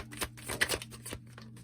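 Tarot cards are shuffled and drawn from the deck in a quick, close riffling flurry of papery flicks and slaps, with no talking.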